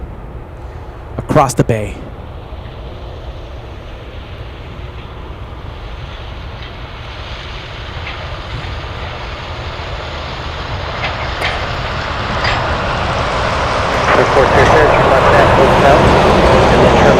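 A Twin Otter aircraft flying in from Beluga approaches Anchorage airport, its broadband engine roar slowly swelling from a distant wash to a louder rush by the end, under steady wind noise and a brief spoken word near the start.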